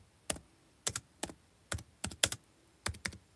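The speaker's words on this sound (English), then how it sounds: "Come on, let me type it in." Computer keyboard typing in short, separate bursts of a few keystrokes each, close and fairly quiet, with no voice.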